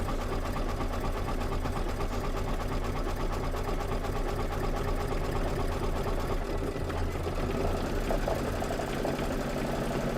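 A sewing machine runs continuously, stitching quilt blocks together, with a steady rapid mechanical whir and motor hum close by and no pauses.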